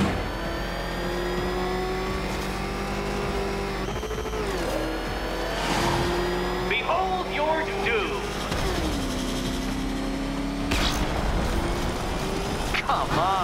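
A car speeds through a Batman Riddler challenge video game course, its engine roaring and shifting pitch with brief tire squeals, while a voice talks over it.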